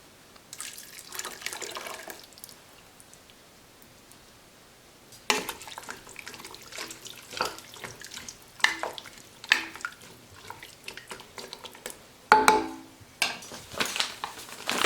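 Juice poured into a pot of chili, wet splashing and dripping in uneven bursts with clinks and stirring against the pot, fairly close and moderately loud.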